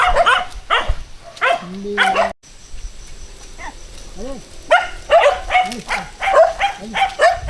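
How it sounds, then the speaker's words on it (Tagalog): Several dogs bark and yip near a house among mango trees in a rural yard, in short repeated bursts mixed with people talking, with a brief quiet gap midway. "May mga aso niya."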